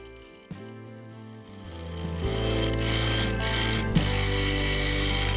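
A wood lathe turns a honey pot lid during a clean-up cut on its outer edge, giving a steady motor hum and a rising, sustained whir of tool on spinning wood with a brief clack near the end.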